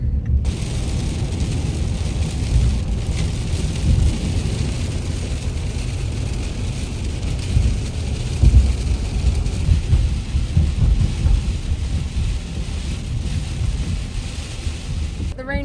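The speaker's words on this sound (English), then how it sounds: "The rain is actually getting pretty bad" Heavy rain pounding on a car parked at a highway rest stop, a dense, steady roar with low rumbling throughout, continuous and loud with no clear pauses.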